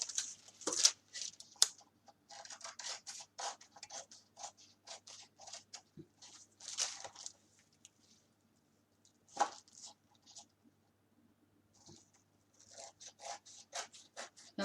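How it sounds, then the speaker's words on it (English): A paper card decorated by napkin transfer gets its edges trimmed, with quiet, close scratchy cutting strokes coming in short bursts separated by brief pauses. "I'm just going to follow the lines of the card, the edge of the card, and trim this down."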